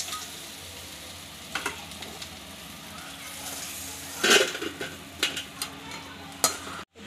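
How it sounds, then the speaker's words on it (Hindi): Crab frying in oil in a pan for an Odia crab curry, giving a soft, steady sizzle with a few sharper scrapes and clinks of stirring scattered through. "कंकड़ा भजा होगा आप देखिए कंकड़ा पूरा गोल्डन ब्राउन कलर होगा"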